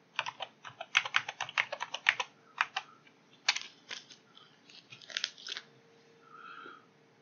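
Password being typed on a computer keyboard to log into a remote Windows Server 2022 desktop: quick bursts of close, crisp key clicks in uneven clusters, pausing briefly, then a few final taps.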